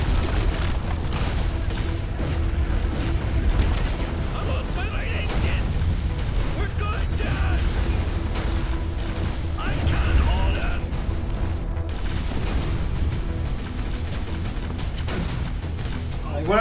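Anti-aircraft cannons at a stadium in the video game Fallout: The Frontier fire as repeated deep booms over a dense, loud, continuous battle din that runs through the whole stretch.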